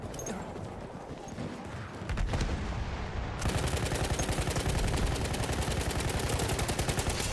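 Rapid automatic SMG fire in Battlefield 1 on PS4 rattles in a dense, fast stream of shots, starting softer and then running loud and continuous for the last four seconds.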